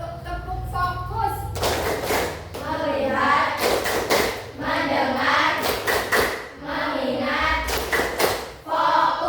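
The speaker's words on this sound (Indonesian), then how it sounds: "Oke, lanjut tepuk fokus." A 'tepuk fokus' clap routine in a Year 9 classroom: groups of sharp, rhythmic hand claps alternate with a class chanting words together, loud and close in the room.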